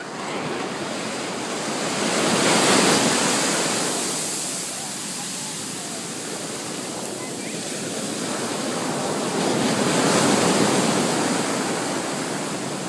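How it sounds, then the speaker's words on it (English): Ocean waves rolling onto a beach at Half Moon Bay, a broad continuous roar of surf that swells and recedes in two slow surges, close and fairly loud with no speech. "Get the waves."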